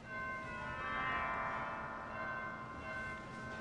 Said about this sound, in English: Cathedral chimes.